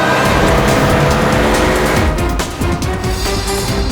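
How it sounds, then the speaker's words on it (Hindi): A car speeding off with tires squealing, a loud close engine roar with screeching rubber and rushing road noise running continuously for several seconds. "जल्दी गाड़ी चला, इससे पहले कि देर हो जाए"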